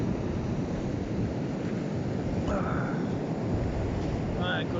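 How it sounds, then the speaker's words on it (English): Rough storm-driven sea waves crash and roar continuously on a beach during Storm Henk, with strong wind buffeting the microphone and a brief voice or tone rising faintly over the surf. "Those are some waves."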